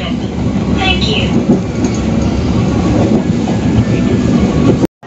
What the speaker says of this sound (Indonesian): kereta api Serayu tiba di stasiun Cimahi